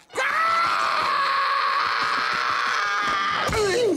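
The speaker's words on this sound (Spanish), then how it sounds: "¿Y ahora por qué estás gritando?" A cartoon character lets out one long, loud scream of panic, held steadily for about three seconds, then breaks into a shorter, wavering shriek at the end, with no other talk over it.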